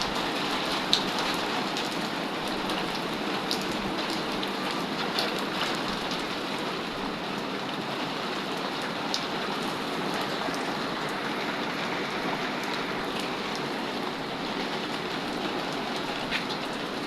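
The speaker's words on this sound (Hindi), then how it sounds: "बारिश हो गई तेज" Steady, dense rain pours down continuously, a broad hiss of drops striking surfaces with no voices.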